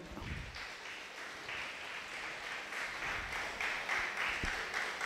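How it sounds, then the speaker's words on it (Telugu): An audience at a children's meditation summer camp applauds, a continuous wash of clapping at moderate distance that swells slightly toward the end. "గట్టిగా చప్పట్లు కొడదాం"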